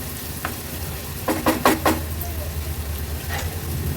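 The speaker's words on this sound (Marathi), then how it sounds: "कांदा व्यवस्थित तेलावर परतून घेते" Chopped onion sautés in hot oil in a pan while cooking an Agri-Koli style fish thali. A steady, gentle sizzle runs throughout, with a quick run of spatula scrapes and stirs in the middle.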